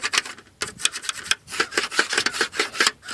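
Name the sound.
pencil marking the cutout on a pool wall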